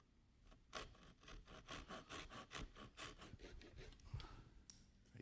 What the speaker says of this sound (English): I'll take my chisel and cut this strop, getting close to the guidelines